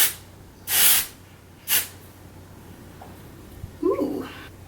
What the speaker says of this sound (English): Salon Graphics Do It All 3-in-1 Dry Texture Spray for volume, refresh, and hold